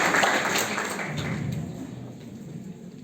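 At a toppers' award ceremony, an audience claps for a high-scoring student. The dense, moderately quiet patter starts fuller and gradually thins and fades over about three seconds.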